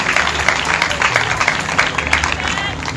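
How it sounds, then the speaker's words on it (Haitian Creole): A church congregation applauds, a dense, steady patter of many hands clapping together at close range, with a preacher's voice speaking over it. "Est-ce que vous applaudissez bon Dieu plus fort toujours?"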